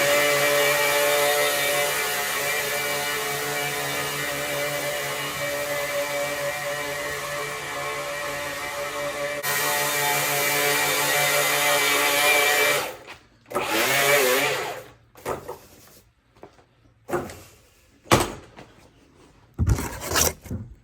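A Milwaukee M18 Fuel cordless power head with a Quik-Lok bristle brush attachment whirs steadily at close range for about thirteen seconds, then cuts into short, uneven revving bursts separated by pauses.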